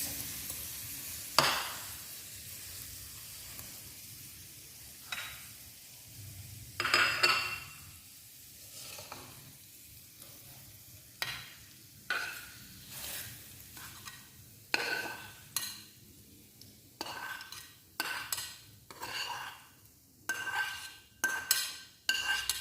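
Mushrooms are stirred into a white sauce in a pan for spaghetti, with repeated clinks and scrapes of a utensil against the pan at an irregular rhythm. A soft sizzle sits underneath, and no one talks.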